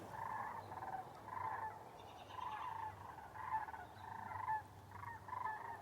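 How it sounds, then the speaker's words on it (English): Sandhill cranes call while flying north overhead in early spring, a repeated series of rolling, trumpeting croaks in rhythmic bursts, moderately distant and fairly faint against a quiet outdoor background. "We got the sandhill cranes coming back, flying north."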